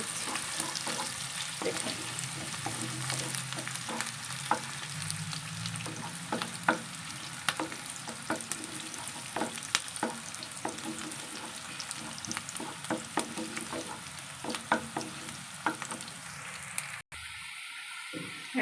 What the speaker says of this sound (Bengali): এখন একটি স্প্যাচুলা দিয়ে নেড়ে নিচ্ছি।